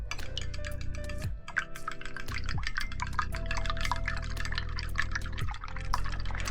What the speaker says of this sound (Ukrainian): Яйця збиваємо зі чіпочкою солі.